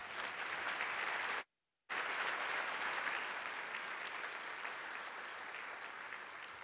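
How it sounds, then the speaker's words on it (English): Sustained applause from a luncheon audience honoring Dismas House at a forgiveness event, steady and full, broken by a brief moment of silence before resuming at the same even level. "I want to cue Dismas House for an applause."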